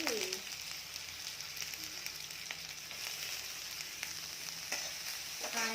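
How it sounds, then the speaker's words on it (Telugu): Sliced onions and green chillies fry in a pan, giving a steady, close hiss of sizzling oil throughout, with a few faint clinks. "ఇప్పుడైతే ఆనియన్స్ వేసేసుకున్నాం ఆనియన్స్ పచ్చిమిర్చి"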